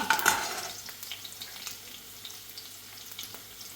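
Cumin seeds sizzle in hot oil in a pan, a steady soft crackle with a brighter burst of spitting at the start, close and fairly quiet, with no talking.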